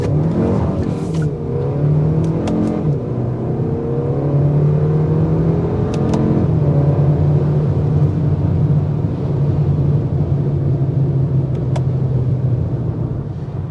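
A 2025 Kia K4 GT-Line turbo car accelerates hard through its gears in manual mode with paddle shifters, the engine note climbing and dropping at each shift, then settling into a loud, steady cabin drone.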